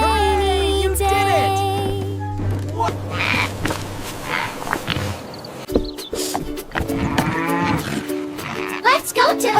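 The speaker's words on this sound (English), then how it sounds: "Moo moo, it's playtime!" A cow moos in a cartoon farm-animal song for toddlers, a low drawn-out bellow at the start followed by bright animated sound effects, bumps and music.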